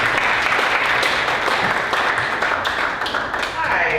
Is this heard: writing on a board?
no